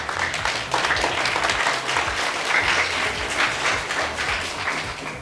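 Steady audience applause at a 14 August Independence Day celebration programme, a continuous crowd of many hands clapping at even loudness for several seconds, with no speech over it.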